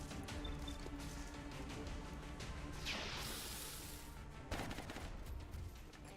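Gunfire in the Long War mod of a turn-based alien-invasion strategy game, a dense crackling volley with a sharper burst around the middle and another near the end, loud and without voices.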